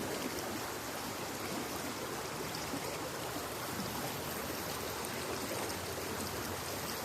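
A river flows outdoors in a steady, continuous broadband rush of moving water that stays even and fairly loud throughout, with no voices over it.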